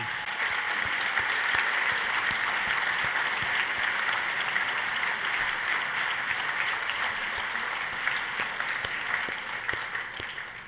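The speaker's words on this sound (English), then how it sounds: "please could we have a round of applause for our Headway volunteers" Sustained audience applause at an awards ceremony at the Landmark London, honouring Headway volunteers, a dense, steady wash of many hands clapping that holds evenly for about ten seconds and tapers slightly at the end.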